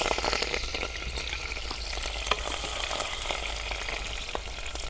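Green chillies hitting hot oil for Gujarati rasiya bhat, a close, bright, continuous sizzle with scattered sharp pops, steady for a few seconds with no talk.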